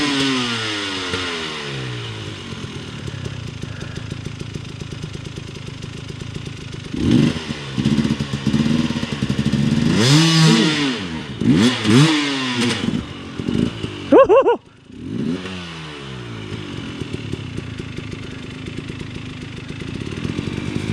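A Yamaha WR250R, KTM or Sherco dirt bike climbs a hill in Watagan State Forest, its engine revving hard in repeated rising surges with clattering and stutters, near and loud, briefly cutting out before picking up again.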